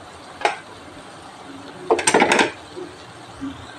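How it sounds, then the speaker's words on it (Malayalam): A spoon stirs chicken masala and turmeric powder in a cooking pan for chicken curry. It makes a short scrape, then a louder cluster of scraping and clinking against the pan, with quieter rattles after. "നന്നായിട്ട് ഇളക്കാം"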